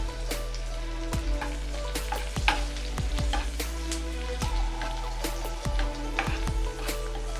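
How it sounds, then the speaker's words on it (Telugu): Chopped onions fry in a pan until brown, giving a steady close sizzle with scattered crackles and pops and occasional stirring scrapes, with no voices. "ఆనియన్స్ బ్రౌన్ కలర్గా వచ్చేంత వరకు వేయించండి."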